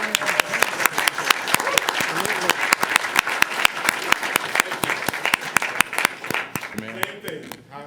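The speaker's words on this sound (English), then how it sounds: "Clap it up for Georgia Water Resources." Applause at a city council meeting honoring Georgia Water Resources: steady, dense clapping from a room of people continues for about eight seconds, fairly close, with a brief voice near the end.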